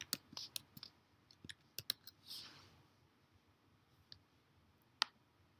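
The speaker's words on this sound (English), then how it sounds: "I'm going to type in Yellowstone" Quiet clicking of computer keyboard keys while typing text, a quick cluster of taps at first, then sparser isolated clicks and one sharper tap near the end, close and faint with no talk.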